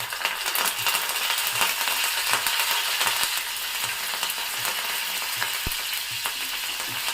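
Cumin, mustard seeds and curry leaves sizzling in a little hot oil for a potato and chickpea fry, a steady crackling hiss with light rattles and a single sharp clink.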